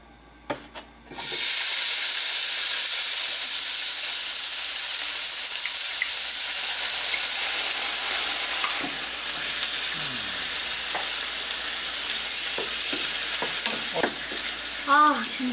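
Cured pork hock bacon fries in hot oil in a pan, setting off a sudden loud, steady sizzle after a quiet start. Faint stirring and scraping sounds come and go above the hiss.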